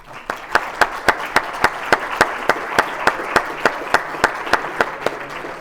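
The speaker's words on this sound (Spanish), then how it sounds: "Un aplauso, por favor" Audience applause at a book launch on domestic-work labour law, heard as brisk, evenly spaced claps standing out above a dense wash of clapping that holds steady throughout.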